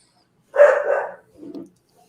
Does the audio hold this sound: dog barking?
yes